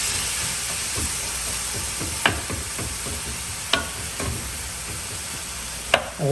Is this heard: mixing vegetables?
yes